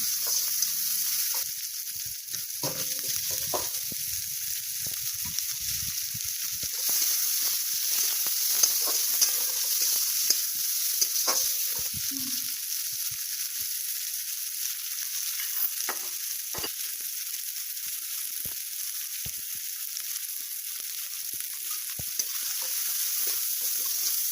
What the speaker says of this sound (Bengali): এরপর তেলের মধ্যে শুকনো লঙ্কা আর কালো জিরে ফোড়ন দিয়ে একটু নাড়াচাড়া করে নিয়ে পেঁয়াজ কুচি, টমেটো কুচি, কাঁচা লঙ্কা, আদা বাটা দিয়ে ভালোভাবে মশলাটাকে নাড়তে হবে।